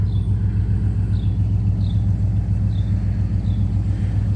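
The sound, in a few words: old Chrysler car engine running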